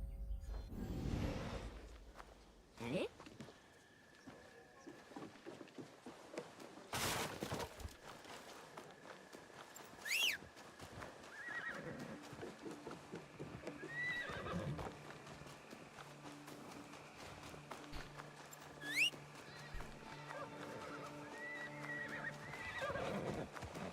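A horse in Assassin's Creed Shadows whinnies and snorts several times over the clip-clop of hooves walking, with game ambience, whooshes and a few melodic tones around it; no talk.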